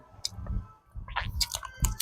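Close, wet chewing with irregular crunchy bites and soft clicks, a few quick mouthfuls with short pauses between them, from a large bull.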